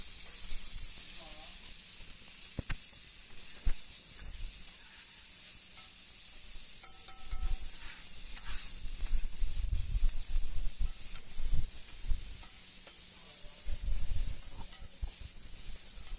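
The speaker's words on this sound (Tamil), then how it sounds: "கல்லுமே நல்லா செம்ம ஹீட்டில் இருக்குது. அதனால் சூப்பராக வதங்கிடும் வெங்காயம்." Onions with salt and oil frying on a very hot griddle for a goat intestine kothukari sandwich, a steady bright sizzle throughout with occasional scraping and stirring bumps and a voice talking now and then.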